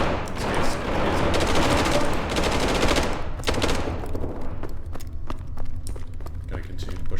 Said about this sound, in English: up ahead there's a small fight between hellhounds and Foundation guards